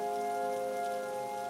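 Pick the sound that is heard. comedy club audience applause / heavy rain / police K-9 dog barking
heavy rain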